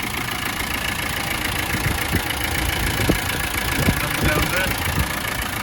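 A warmed-up 1993 Land Rover Defender 90 hardtop with a 200TDi diesel engine and 181,000 miles idles steadily nearby with a rough, even clatter; a voice speaks briefly over it.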